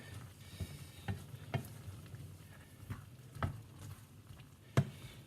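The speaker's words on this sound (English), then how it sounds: "I'll add in the passata and give that a stir through" Spoon stirring passata into a chicken curry in a hot pan: faint, close, irregular scrapes and knocks at roughly one-second intervals over a low, steady sizzle, with no talk.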